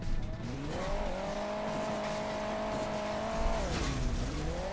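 Car driving in the mobile game Hill Climb Racing 2: a steady buzzing engine drone that climbs in pitch, holds, then dips and rises again, with no talk over it.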